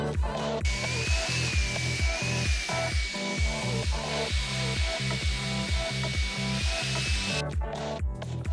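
Hair dryer blowing steadily and close while long hair is dried into a graduated shape, a loud continuous airy whoosh with a faint whistle, plus a rhythmic thumping beat of background music underneath.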